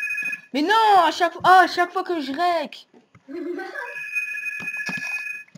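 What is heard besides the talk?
telephone ringing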